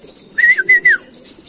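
Racing pigeons coo at their loft during a summer fun race in Pagbilao, Quezon: a short run of three or four close, clear calls with no talk over them.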